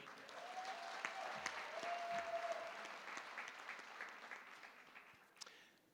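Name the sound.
graduation audience clapping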